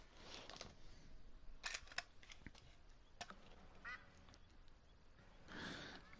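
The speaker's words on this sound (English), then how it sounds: "I got ducks landing right next to" Ducks quack in The Hunter: Call of the Wild, a hunting video game, with faint, scattered calls and short bursts over a quiet outdoor ambience and no talking.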